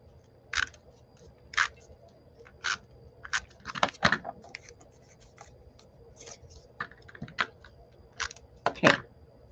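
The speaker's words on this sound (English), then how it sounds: "Then I'll just use my tape runner." Tape runner laying adhesive during Stampin' Up! card crafting, a series of short sharp clicks and scraping rasps in irregular bursts, close up, with quiet handling noise between them.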